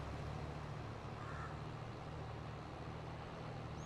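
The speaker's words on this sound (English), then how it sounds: "You're in deep mud and the truck isn't meant for it." A truck bogged down in deep mud in Farming Simulator 22, its engine droning steadily and heavily at a low pitch throughout, with a constant rumbling hum and no voices.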